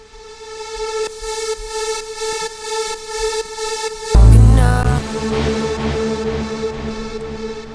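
Reversed sample swelling into a synth in a studio remix mix: steady sustained tonal pad with a pulsing upper layer, then a sudden loud low burst around the midpoint giving way to a fuller synth texture, all alone without voices.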